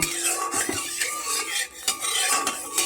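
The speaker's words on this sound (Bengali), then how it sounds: "এবারে মাছগুলো আমি লাল করে ভেজে তুলে নেব" Small river chela fish frying in hot oil in a kadai. A metal spatula repeatedly scrapes and clinks against the pan in uneven strokes over a constant background sizzle, all close and fairly loud.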